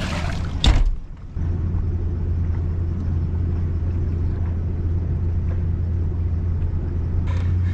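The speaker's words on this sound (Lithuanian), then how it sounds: "Vargšas variklis verkia." Car engine labouring under strain, a heavy steady low rumble close by after a brief knock at the start, continuing without letup.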